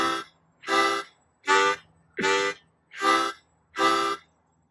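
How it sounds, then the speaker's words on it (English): Harmonica breathing in and out on holes 1, 2 and 3, six loud chords in a steady rhythm, each a separate blown or drawn puff with short gaps between, played alone. "And it sounds like this when you add the harmonica."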